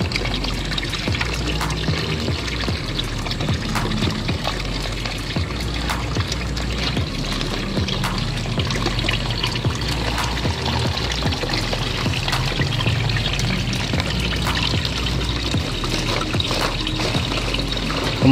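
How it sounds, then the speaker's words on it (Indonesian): Water pours steadily onto cocopeat in a continuous, close trickle and splash with no pauses. The sound is the same from start to finish. "Kemudian kita isi dengan air."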